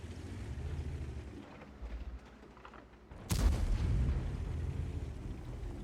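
A single tank gun shot in World of Tanks, one sharp loud boom that cuts through quiet engine rumble and trails off into a lingering low roar, with no voices.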